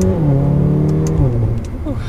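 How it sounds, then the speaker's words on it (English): A 2019 Mercedes-Benz CLA 45 AMG accelerating out of a turn from second gear with the active exhaust off, its engine note rising and falling in steady harmonic tones for about two seconds, close and fairly loud. "we'll give it a little bit of gas here."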